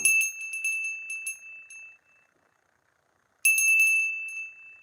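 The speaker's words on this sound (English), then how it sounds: "did you hear the bell then?" A bell rings out clearly in a quiet room with a bright, sustained metallic tone, sounding twice: one long ringing stretch that fades into silence, then a second strike that rings on and slowly decays.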